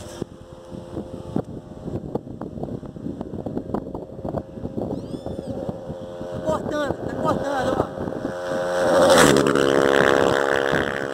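High-revving motorcycle on a top-speed run approaches and screams past, its engine note rising to a loud peak near the end, while people talk excitedly close by.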